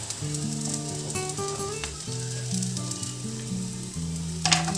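Onion sizzles in a pan as dried coconut is stirred in, a steady frying hiss with scraping stir strokes, alone, while tonal background music plays throughout.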